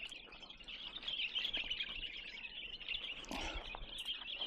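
Freed bulbuls chirp steadily in the trees after release from cages, a dense, continuous twittering chorus at moderate distance with no voices.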